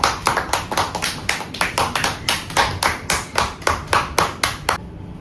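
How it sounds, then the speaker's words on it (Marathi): A few people clap their hands together at a home celebration, producing a steady run of about two dozen sharp, evenly spaced claps close by, with no talking, ending abruptly into quiet. "टाळ्या वाजू ए टाळ्या वाजर"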